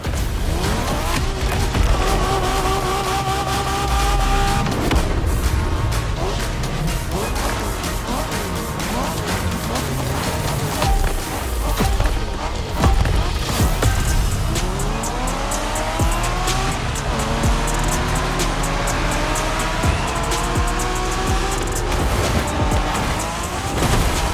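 A street race car in The Crew Motorfest roars loudly and continuously, its engine revving up and down through gear changes while tires squeal and skid, with a few sharp impacts along the way.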